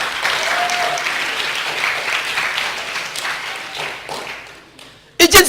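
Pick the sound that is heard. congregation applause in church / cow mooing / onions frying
congregation applause in church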